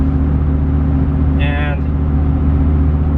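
Mercedes G-Wagon engine droning steadily at close range, a low rumbling tone holding throughout, with a brief whistling harmonic rising and fading midway.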